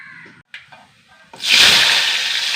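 Mustard seeds splutter in hot coconut oil for a potato stir-fry, starting with brief faint sounds and then bursting into a loud, sustained crackling hiss close up. A voice is heard faintly before the sizzling takes over.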